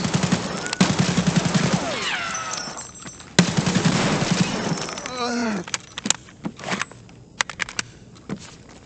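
Gunfire in the video game Escape from Tarkov, heard as dense bursts of rapid shots in the first half, then scattered sharp single cracks, loud and close, with a cat meowing in between.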